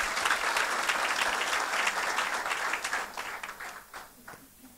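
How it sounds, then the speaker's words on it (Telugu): A church congregation in Dubai claps together after an anniversary blessing, a dense wash of applause that is loud at first and gradually thins and fades. "అందరూ ఒకసారి గట్టిగా చప్పట్లు కొడదాం."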